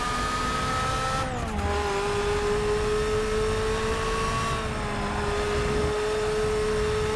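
A Nissan R91CP race car engine drones steadily at high revs at Silverstone in Forza Motorsport 6, with a strong sustained tone, one sharp downshift and pitch drop early on, then a smooth rise and fall in pitch.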